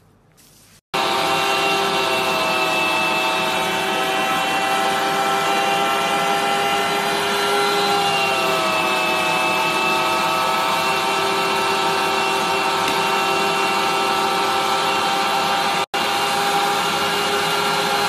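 A food mincer grinds vegetables, including onion, for chicken kuku, giving a steady, loud, continuous motor whine with a constant pitch for most of the stretch, starting abruptly and cutting out briefly near the end.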